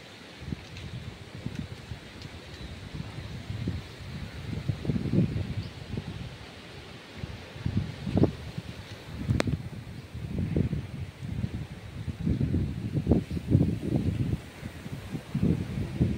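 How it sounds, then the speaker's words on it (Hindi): Strong stormy wind gusts during heavy rain, surging in uneven low rushes and buffeting bursts against the microphone, rising and falling repeatedly with no voices. "आप लोग देख लीजिए कितना अच्छी हवा चल रही है, मस्त हवा।"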